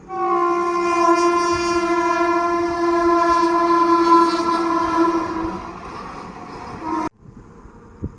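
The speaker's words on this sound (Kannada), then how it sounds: "ಟ್ರೈನ್ ಒಂಜಿ ಬರೊಂದೇ ಪುಂಡು" A train passes close by, its loud horn blaring steadily for several seconds over rumbling wheels, then cutting off abruptly as the rumble fades.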